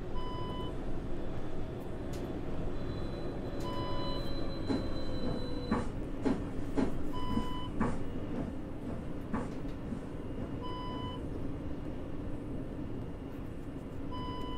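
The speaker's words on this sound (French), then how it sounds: "C'est une alarme comme quoi elle n'est pas accordée à la ligne électrique." An in-game alarm on a trolleybus in the Omsi 2 bus simulator, sounding when the trolley pole is off the overhead line, beeps repeatedly in steady tones over a constant engine and road rumble.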